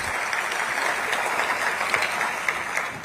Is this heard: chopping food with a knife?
no